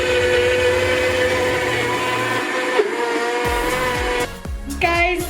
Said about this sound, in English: Sounds like my food processor is going to explode.